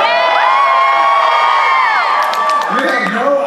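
A large theater audience cheers, whoops and shouts loudly and continuously, a dense crowd roar with children's high shouts rising above it near the end.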